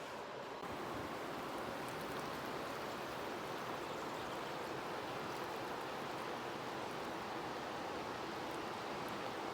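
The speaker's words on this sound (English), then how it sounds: "What a beautiful river." A flowing river at a remote campsite produces a steady, dense rushing roar that stays close and continuous throughout, with no voices.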